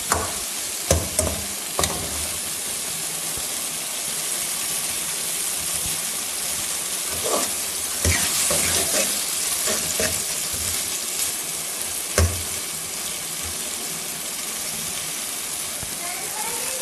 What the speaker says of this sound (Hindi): बस हमने इसको अभी इसके अंदर इतनी देर रखना है कि ये जो हमारा बैंगन है वो इसके अंदर फ्राई हो जाए।